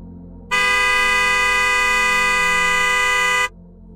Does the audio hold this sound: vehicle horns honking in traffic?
yes